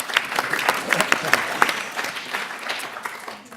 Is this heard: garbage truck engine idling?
no